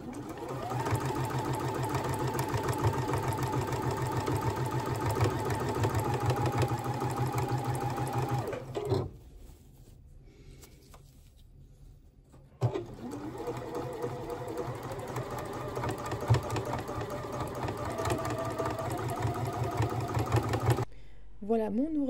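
A domestic sewing machine runs in long steady bursts, topstitching a 1 mm seam along a fabric tote bag, with a brief pause mid-way before stitching resumes at the same even pace.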